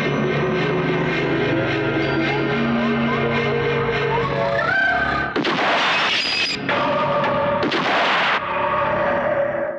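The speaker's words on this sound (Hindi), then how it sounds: "अभी तो सिर्फ तस्वीर पर गोली चलाई है मिस सपना जी, अब तो तुम्हारी पारी है।" Gunshot fired at a photograph in a 1990s Bollywood film scene: a sharp blast cuts through a dramatic music score, followed by a few loud cracking bursts and a ringing tail.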